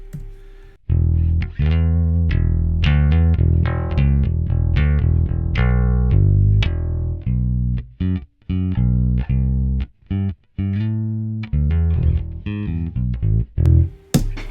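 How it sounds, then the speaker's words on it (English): An amplified, effected bass guitar through an amp modeler with neutral settings plays a run of punchy notes with short gaps between phrases, loud and close. "Let's hear this."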